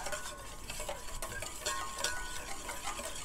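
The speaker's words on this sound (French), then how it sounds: "On continue de mélanger." Garlic and toasted sesame oil stirred into a marinade for a Chinese smashed cucumber salad, a steady wet scraping and swishing that runs throughout at close range, with no talking.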